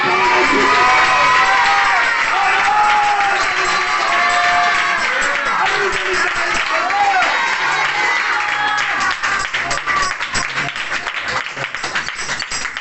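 A worship congregation shouts, whoops and cheers in praise during a Telugu sermon, a loud, sustained crowd roar with scattered claps growing more rhythmic toward the end.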